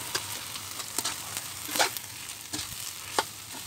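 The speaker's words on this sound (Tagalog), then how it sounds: "ihalo mo na yung malagkit na sinaing" Cooked sticky rice is stirred into coconut milk simmered with sugar and a little salt for biko, giving soft, irregular scraping strokes and light wet squelches, fairly quiet, with no voices.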